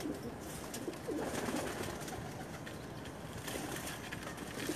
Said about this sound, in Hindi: ये तमाम के तमाम लाखे कबूतर हैं जी हमारे